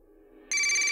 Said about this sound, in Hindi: शुक्ला जी का फोन है